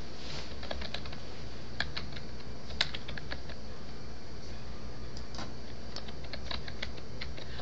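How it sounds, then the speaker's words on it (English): A login name and password are typed on a computer keyboard, with close, irregular clicking keystrokes running for several seconds over faint background noise and no speech. "I put in my login name and my password."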